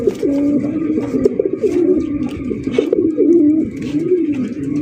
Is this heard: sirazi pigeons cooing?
yes